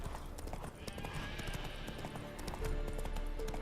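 Horse hooves clip-clop in steady rhythm in The Witcher 3 video game, with a whinny rising over the footfalls, close and clear against faint game ambience.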